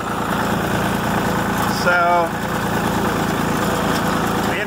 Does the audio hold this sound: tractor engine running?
yes